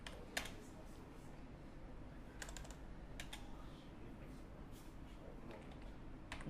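Quiet typing on a computer keyboard while entering a search query, light irregular key clicks in small bursts over a soft steady background hum.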